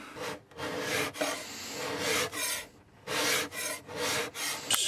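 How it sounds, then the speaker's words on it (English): Stripped varnish being scraped off woodwork along the grain: repeated rasping strokes in a steady back-and-forth rhythm, close and moderately loud, with no talking. "Scraping"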